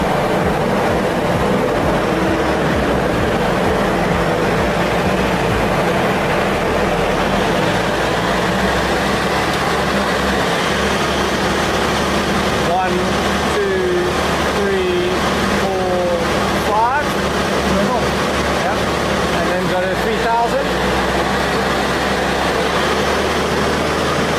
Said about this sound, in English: we're going to put a run on the dyno, and we're going to obviously just check the boost and see where she's at